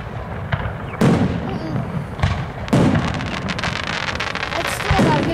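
Fireworks shells bursting over a Santa's arrival display, a string of loud booming blasts and crackles at irregular intervals, some sharp and close, over continuous crowd noise.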